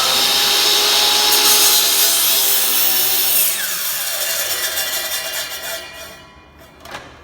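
A powered miter saw cuts through a wooden board with a loud, close whining bite, then the blade winds down and fades over the last few seconds.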